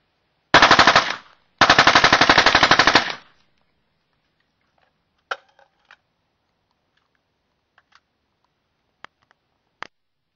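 A .30-caliber rifle fired through a QSM titanium suppressor lets off two long, rapid bursts of muffled shots, then scattered faint ticks and clinks in near silence.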